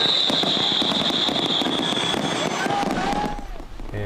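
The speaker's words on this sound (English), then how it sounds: "the firework display above Weber Point" Fourth of July fireworks bursting above Weber Point in Stockton, a dense run of rapid cracks and booms with crackling trails, loud and continuous, with a high whistling tone and crowd noise mixed in before it fades.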